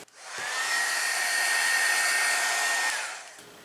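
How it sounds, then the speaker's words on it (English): A heat tool blows steadily over a craft page for about three seconds, a loud, even whirring hiss that starts with a click and then trails off. "I'm going to get my heat tool and give it a dry."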